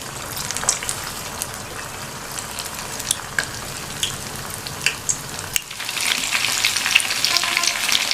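Soya chunks deep-frying in hot oil in a kadai, a steady close crackling sizzle with scattered pops that swells louder and denser in the final seconds, no voices.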